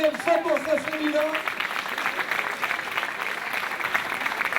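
Applause for an all-female awards podium at a prize ceremony, crowd clapping rising as a voice finishes speaking, then steady dense clapping that gradually thins.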